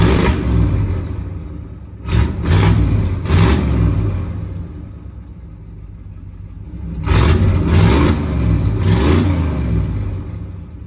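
A 1979 Camaro Z/28 V8 with its restrictive exhaust cut out revs hard in repeated bursts, loud and close, rising and falling in throttle blips with an idle rumble between them.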